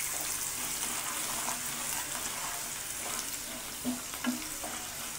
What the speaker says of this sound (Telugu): ఇవి కొంచెం బ్రౌన్ కలర్ వచ్చేదాకా వేయించుకోండి వెల్లుల్లి.